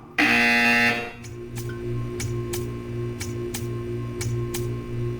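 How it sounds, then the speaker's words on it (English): A loud, harsh electronic buzzer from Portal 2 blares for about a second, followed by a steady rhythm of quiet ticking clicks and a low hum. "You will hear a buzzer."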